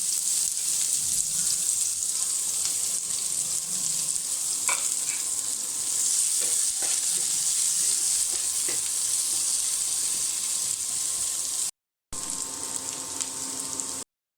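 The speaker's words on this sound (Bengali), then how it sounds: "এখন আমি এই তেলের মধ্যে দিয়ে দেবো পেঁয়াজ কুচি" Chopped onion sizzles steadily in hot oil in a pan, a close, dense frying hiss with a few light stirring clicks, briefly cutting out near the end; no one speaks.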